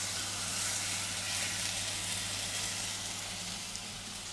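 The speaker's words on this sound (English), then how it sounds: "Now let's sear this chuck." Chuck beef searing in a hot pan for tacos, a steady, close, loud sizzle and crackle of frying fat that holds throughout and tapers slightly at the end.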